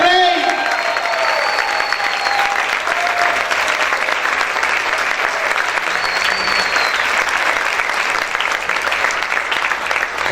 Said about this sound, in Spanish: Aplaude, aplaude, aplaude fuerte al Señor.